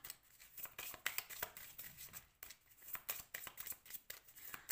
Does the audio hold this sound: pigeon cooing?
no